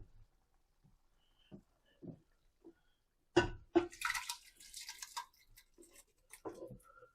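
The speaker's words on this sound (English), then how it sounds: "I'm just dropping it from one pot to the other." Cooked pasta for goulash transferred by hand from one pot to another, heard as scattered soft wet plops and drips, then a louder, close cluster of squelching slaps midway, fading to a few quiet drops.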